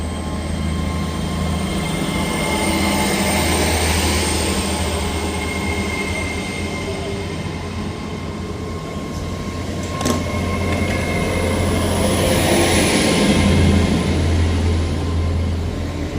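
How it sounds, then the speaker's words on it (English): An LNER passenger train departing Inverkeithing station rumbles steadily along the tracks with a low continuous drone and faint metallic squeals, moving past at a moderate distance. "Departing out now is the delayed 10:51's LNER service from London King's Cross to Aberdeen."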